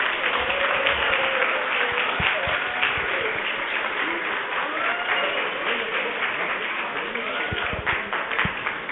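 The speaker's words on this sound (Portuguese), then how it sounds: "Mais uma salva de palmas." An audience applauds at the end of a lecture on workplace harassment, steady clapping that continues throughout while people talk over it.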